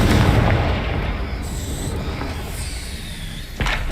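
Confringo fire spell blast in Hogwarts Legacy, a loud rumbling boom at the start that fades into a rushing tail, then a sharp burst near the end, with no talk.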